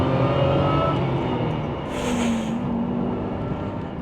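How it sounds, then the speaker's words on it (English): An Aston Martin DB7 engine in second gear at around 2,500 rpm gives a quick throttle blip that swells briefly mid-clip over a steady, close engine drone. "Another little opportunity just to give it a quick blip."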